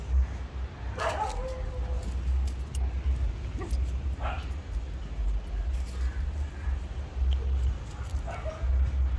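Several dogs at a dog temple shelter in Arambol, Goa bark intermittently in the distance, scattered short barks and yips over a constant low rumble of wind or traffic.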